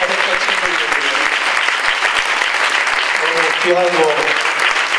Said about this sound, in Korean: 우리 한번 박수 한번 다시 한번